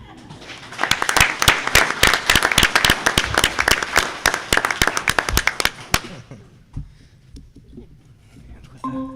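Audience applause at a school board meeting, a burst of close, vigorous clapping from a roomful of people that lasts about six seconds before stopping abruptly and leaving quiet room noise.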